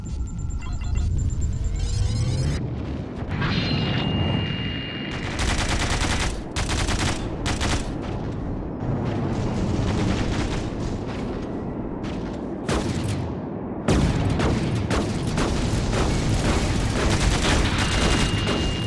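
Gunfire in a zero-gravity tactical shooter video game, heard as dense bursts of rapid automatic fire and sharp single shots with booming impacts, loud and nearly continuous, with brief lulls between volleys.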